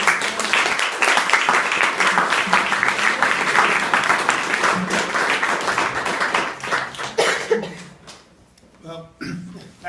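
Audience applause for panel speakers at a public event: dense, steady clapping for about seven seconds, then thinning out and fading into scattered claps, with voices faintly mixed in.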